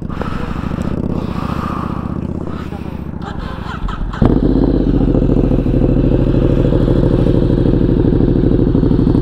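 A Ducati Diavel 1260 motorcycle engine idling with low rumble, then revving up sharply into a louder, steady throaty drone, with some clatter and faint voices early on.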